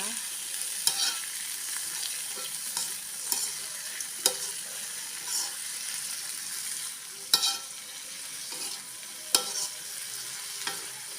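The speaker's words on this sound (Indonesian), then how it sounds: "Saya aduk-aduk dulu teman-teman biar bumbunya merata." Bean sprouts in seasoning stirred in a frying pan under a steady hiss of sizzling oil, with sharp spatula scrapes and clacks at irregular intervals and no voices.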